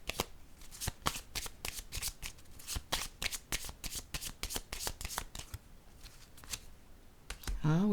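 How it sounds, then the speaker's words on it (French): Tarot cards are shuffled close up in a steady run of crisp riffling snaps, followed by a few softer card placements, and a voice begins speaking at the very end. "Je vais déposer une carte ici."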